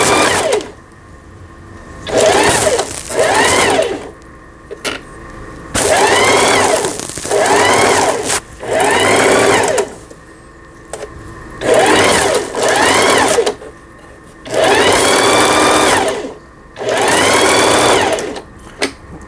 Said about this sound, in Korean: 직선 바느질에 맞춰 놓고 박음질이 잘 나와야 됩니다.